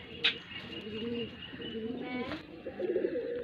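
Old-breed Chapra pigeons coo in low, soft phrases, with a few brief higher chirps and a faint hum in the background; nearby, moderately quiet, with no talk.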